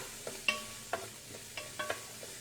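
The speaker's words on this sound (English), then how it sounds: "Give it a stir." Turkey curry soup with plenty of ginger being stirred in a pot on a lowered burner, giving a handful of soft scraping and clinking spoon strokes at an uneven rhythm over a faint simmering sizzle, close and fairly quiet.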